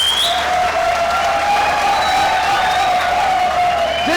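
Studio audience applause on a cricket talk show, steady massed clapping and cheering that carries on evenly for several seconds, with a faint tonal hum underneath.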